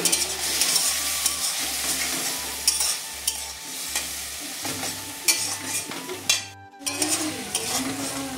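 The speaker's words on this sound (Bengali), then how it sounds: "এবারে সামান্য কিছুটা জল দিয়ে দেব।" Chili powder and cumin paste frying in a pan for crab curry, stirred with steady scraping strokes over a loud, close sizzle, with a brief hiss partway through and no speech.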